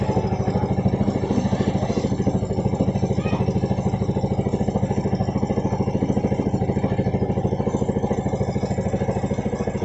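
A Yamaha Jupiter Z motorcycle engine runs close by with a steady, rapid mechanical chug and clatter, holding an even idle-like rhythm throughout without clear rises in pitch.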